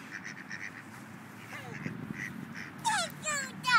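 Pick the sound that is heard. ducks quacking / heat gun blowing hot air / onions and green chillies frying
ducks quacking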